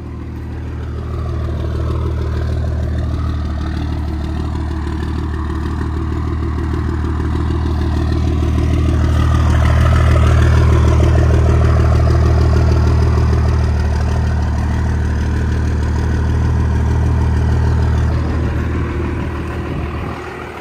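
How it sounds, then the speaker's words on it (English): A 12-valve dually pickup truck with a 5-speed and heavy-duty clutch idles close by, a steady low diesel rumble with a faint metallic rattle running through it. "when you have the clutch pushed in, the clutch rattles a little bit"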